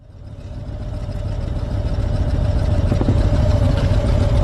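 Engines rumble and build as three custom motorcycles pull away together, a deep low growl growing louder and steadier over a few seconds.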